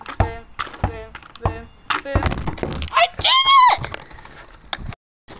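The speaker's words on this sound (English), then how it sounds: "I've been bouncing a ball with a fake hand" A ball bounces off a plastic fake hand in a series of hollow, evenly spaced thunks, mixed with a person talking excitedly over and between the impacts.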